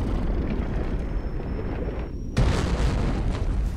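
An explosive charge detonates in the video game From Dust, a sudden loud full-band boom bursting in after a low rumbling ambience and a thin rising whine, then sustaining as a dense roar.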